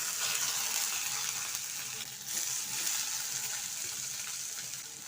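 Squeezed radish greens fry in hot spiced oil tempering, giving a continuous, fairly faint, hissing sizzle with a slight shift partway through, and no voices.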